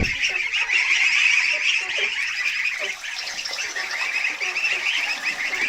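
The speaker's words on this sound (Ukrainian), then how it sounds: "це мої гусята тут сидять" A dense, continuous chorus of goslings honking and peeping close by, many overlapping calls with no pause.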